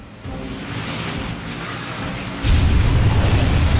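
A water-power sound effect in a Sunday school graduation play: a broad, rushing whoosh like surging surf that jumps louder about two-thirds through with a deep rumbling boom, heard alone without talk.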